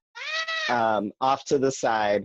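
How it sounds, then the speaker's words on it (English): A pet cat meows several times in a row, loud and close, with a drawn-out first call followed by shorter, choppier cries. "sorry, that's my cat"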